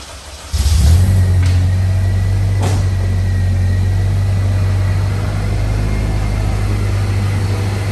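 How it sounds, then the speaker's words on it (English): A supercharged Honda K20 engine in a Civic EP3 Type R starts up and settles into a steady, loud, low droning idle close by, with a brief rev near the start and no talking. "there's our supercharged K20"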